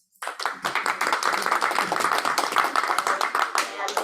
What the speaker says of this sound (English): we're gonna do it by applause